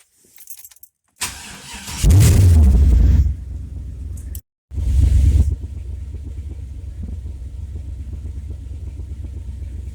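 A Chevrolet Caprice with a newly adjusted timing map cranks and fires up, revs loudly for a couple of seconds, cuts briefly, then catches again and settles into a steady, rumbling idle up close.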